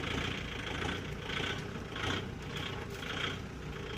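A Kubota MU5502 tractor engine runs steadily in high first gear in a small field, a moderate mid-low drone that swells and eases in gentle periodic pulses, with no talking.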